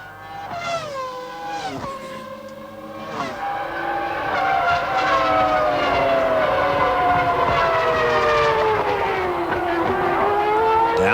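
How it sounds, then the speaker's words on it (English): A 1996 Formula One race car at the Australian Grand Prix screams past close by, its high-revving engine rising and falling through downshifts and braking, then holding a loud sustained wail with no talk over it. "What an extraordinary machine a Formula One race car is."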